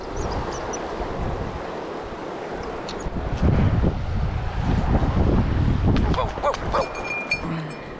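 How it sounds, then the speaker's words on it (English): Wind gusting and buffeting the microphone beside a river, a broad rumbling roar that swells louder midway through with lapping water underneath, and no voices. "Windy over here."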